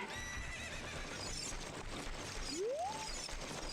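A horse in the video game Ocarina of Time lets out a single clear, rising whinny over a steady game backdrop.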